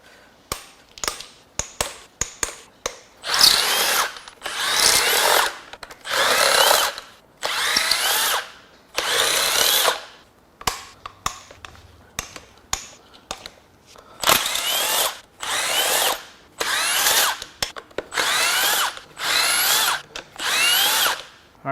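Close, loud bursts from a power tool loosening intake manifold bolts on a Ford 4.6L modular 2-valve V8 in a teardown, about a dozen whirring runs of a second or so each, separated by short pauses and faint clicks.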